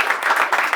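Students clapping in a classroom, a brief burst of quick overlapping hand claps lasting under a second.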